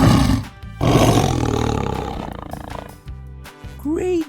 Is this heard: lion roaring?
yes